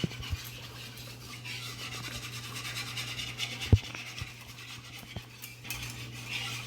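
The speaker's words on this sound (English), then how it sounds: "Let's whisk it a little bit more." A whisk scrapes and stirs sausage gravy in a pan with soft, continuous rubbing and swishing, broken by a few sharp metallic taps against the pan, over a low background hum.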